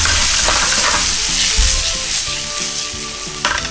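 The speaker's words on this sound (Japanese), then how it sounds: "今日はホールトマトなのでこう潰しながら入れていきます" Whole canned tomatoes being crushed into a hot curry pot produce loud, steady sizzling and frying, with soft stirring and squelching over the continuous hiss.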